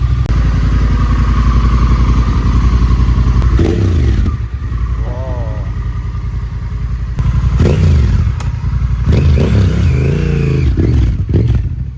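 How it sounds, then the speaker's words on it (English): A Honda Africa Twin motorcycle with an Akrapovic racing exhaust revs repeatedly, loud and throaty, rising and falling in sharp bursts close by, with a few short spoken remarks between revs. "That's one of the best sounding exhausts and engine bike combos I've ever heard."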